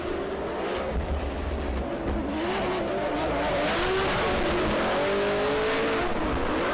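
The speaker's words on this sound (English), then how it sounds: "pushing his car to the limit through that last section, transition for the last time and over the finish line" A drift car's engine screams near its limit through the final section and across the finish line at the Oman International Drift Championship finals, a loud, sustained rising whine with crowd-like roar underneath and no talk.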